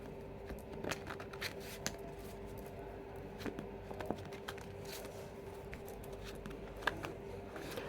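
A tarot card deck is shuffled close up, giving soft, quick papery riffles and taps in an irregular patter over a faint steady hum.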